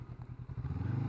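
A 2021 Honda CB500X motorcycle engine runs with a low, pulsing throb that rises steadily as the bike pulls away after slowing at traffic lights, fairly faint and with no voices.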